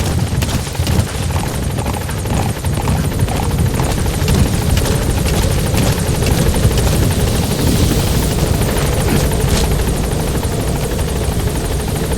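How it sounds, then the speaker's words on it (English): A video game helicopter in Metal Gear Solid V: The Phantom Pain arrives, its rotor thumping in a steady, loud, continuous roar that stays close throughout. "Support helicopter has arrived."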